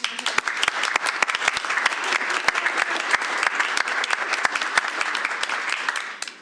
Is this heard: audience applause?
yes